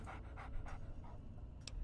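Companion dog in the video game Fallout 3 panting in quick, rhythmic bursts of breath, close and fairly soft, with a brief high whine near the end and no talk.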